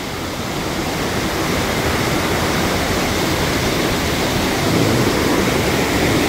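Karumparai waterfall near Keeriparai, Kanyakumari district, roars in a steady, dense rush of falling water that fills the whole clip without a break.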